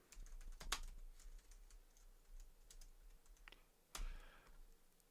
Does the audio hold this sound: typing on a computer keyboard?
yes